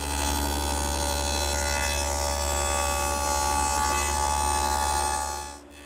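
A woodworking power tool runs continuously while cutting a rabbet along the back edge of a four-drawer chest, a steady even whirr with a low hum underneath that cuts off abruptly at the end.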